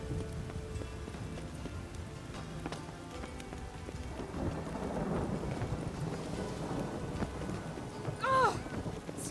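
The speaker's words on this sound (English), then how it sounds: "Rain again." Rain falls steadily with a low, faint rumble of thunder in The Witcher 3: Wild Hunt while a horse plods along. A soft clip-clop runs beneath the patter, and a short tonal chirp cuts in near the end.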